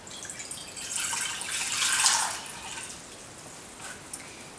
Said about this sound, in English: Next, add your 2 cups of water to the pot.